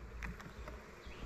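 Honey bees buzzing around a honey super during a honey harvest, a steady low drone with a few faint higher tones rising briefly, continuous and fairly quiet throughout.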